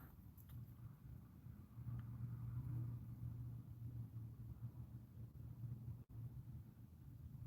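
A truck rumbles past outdoors, a steady low engine drone that swells and holds for several seconds before easing, with no talk.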